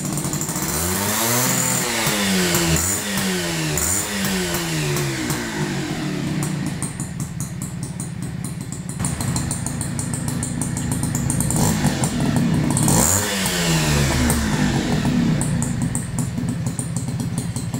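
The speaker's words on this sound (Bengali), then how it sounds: "তো এবার আমরা বাইকটিকে স্টার্ট করব।" A Honda H100S CDI motorcycle engine roars close and loud, revving up and down repeatedly with rising and falling pitch sweeps, then settling into a steady running drone; no talk.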